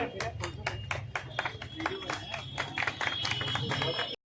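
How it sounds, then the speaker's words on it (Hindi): An audience claps in welcome at a Gandhi Jayanti event, a dense run of hand claps that keeps going for several seconds while a voice carries on underneath. "तालियों से स्वागत करेंगे।"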